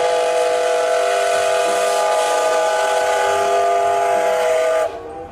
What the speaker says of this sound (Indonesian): Wadidaw, ini kereta api.